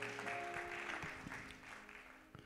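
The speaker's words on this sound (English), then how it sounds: "Come on and clap your hands again." A church congregation claps along during a worship service, a brisk run of hand claps that stays faint and fades toward the end.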